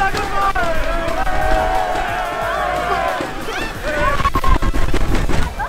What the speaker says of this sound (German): Jetzt jubeln wir direkt mal hier. Und springen ihn an.